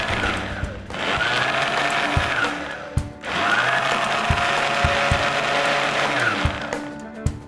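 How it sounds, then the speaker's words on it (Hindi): An electric blender whirs steadily as it purees strawberry with ice cream, whipped cream and milk into a shake, a loud continuous motor drone broken by brief stops and restarts, with small knocks mixed in. "तो ये स्ट्रॉबेरी अच्छे से ब्लेंड हो गई है सारी चीज़ें हमारी, हमारा क्रश आइसक्रीम व्हिप्ड क्रीम और दूध अच्छे से ब्लेंड हो गए।"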